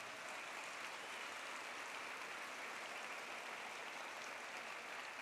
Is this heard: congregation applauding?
yes